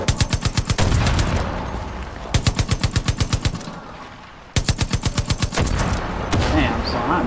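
Light machine gun fire in Far Cry 5, loud rapid bursts of evenly spaced shots repeating in three long strings with brief gaps, over a busy background of game noise.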